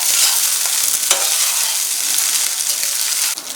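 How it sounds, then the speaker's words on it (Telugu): Chicken fried rice stir-fried in a hot pan over high flame, giving a loud, continuous sizzle with scraping stirring strokes running throughout. "ఫ్రైడ్ రైస్ టేస్ట్ చల్లారిపోయిన అన్నం వేడెక్కాలన్నమాట"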